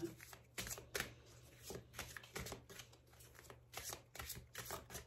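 Oracle cards being shuffled by hand, soft close riffling and slapping in irregular bursts, quiet with no talk.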